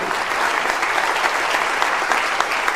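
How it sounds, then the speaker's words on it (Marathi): Sustained applause from an audience, steady and dense clapping throughout with no pauses. "टाळ्या वाजवा तुम्ही थांबू नका"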